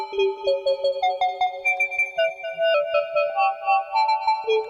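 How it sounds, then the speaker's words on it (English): A sequenced analog synth melody drenched in reverb plays a rapid run of bright, bell-like notes that smear into a sustained, shimmering wash. "And if we soak it into the reverb, it sounds like this."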